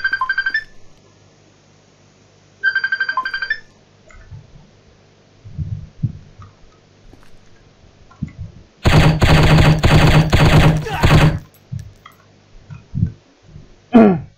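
Gunfire in the Striker shooting video game: a long rapid automatic burst of about two and a half seconds, loud and close, surrounded by quieter thuds, clicks and short electronic beeps.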